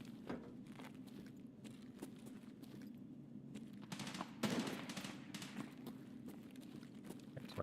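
Raiders fight in a video game with faint, distant gunfire: repeated short cracks and brief bursts spread over a steady low background hum.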